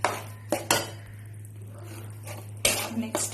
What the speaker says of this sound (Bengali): যত সুন্দর করে নাড়বো তত গন্ধটা খুব ভালো বার হবে